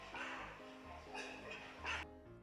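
A dog barks and yips in short bursts, a few times over steady background noise, moderately close.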